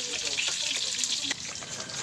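Garlic and onion fry in a pan for ginataang kabayo, giving a steady, close, hissing sizzle broken by a few soft stirring scrapes.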